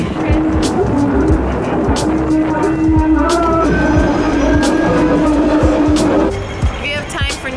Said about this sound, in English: So we just jumped on the next tram immediately going back.